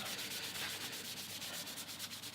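Guitar back plate with an oil finish being rubbed down by hand, a steady close, continuous friction swish with a faint rhythmic pulse, no voices.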